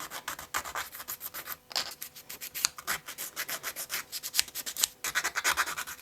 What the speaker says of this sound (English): I'm going to take and scuff up the outer edges with some sandpaper